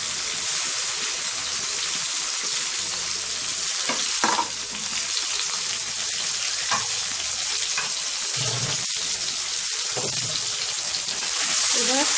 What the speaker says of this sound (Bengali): এবার জিরের গুঁড়োটা একটু ভাজা হবে।